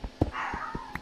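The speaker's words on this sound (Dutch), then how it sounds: "Mijn hond zit te blaffen." A house dog lets out several short, sharp barks in quick succession, fairly close and loud, over a steady indoor background hum.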